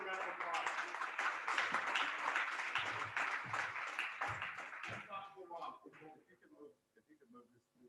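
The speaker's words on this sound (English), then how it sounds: "do another round of applause" Audience applause in a presentation hall, a dense wash of many hands clapping that holds steady for about five seconds, then thins out and fades, with murmuring voices underneath.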